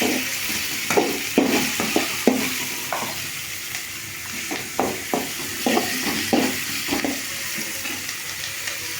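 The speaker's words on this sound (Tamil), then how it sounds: "நல்லா கலர் வர வரல வதக்கினா தான் வெங்காயம் நல்லா வேகும்." Onions sautéing in a pan with mustard seeds and chana dal for tomato sambar, a continuous light sizzle broken by repeated scraping, clacking stirs of a spoon at an uneven rhythm, close and moderately loud, with no talking.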